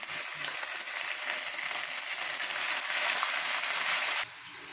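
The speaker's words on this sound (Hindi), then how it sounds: "अभी देखिए प्याज हमारा गोल्डन हो गया, अब इसमें हम अदरक लहसुन का पेस्ट ऐड करेंगे" Ginger garlic paste frying in a pan with golden browned onions: a steady, fairly loud hiss and crackle that runs unbroken and then drops off abruptly near the end.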